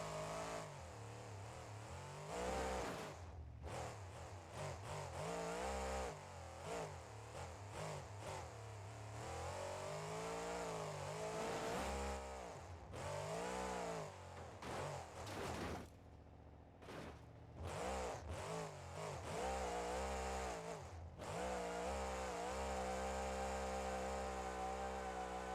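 Car engine in the BeamNG.Drive driving game revving hard while doing donuts held in first gear, a continuous loud wavering roar with repeated rises and falls in pitch and brief cuts.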